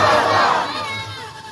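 A large crowd at an Islamic religious gathering roars back a loud, unified shouted response to a chanted slogan, a brief massed cry that fades at the end.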